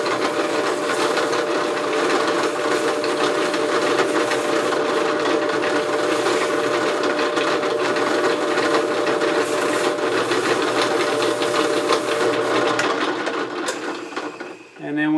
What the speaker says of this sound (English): here's the easiest way to sand this